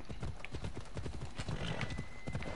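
A horse in Assassin's Creed Odyssey trots with a steady run of clip-clopping hoofbeats and lets out a neigh partway through, all fairly quiet over continuous in-game background ambience.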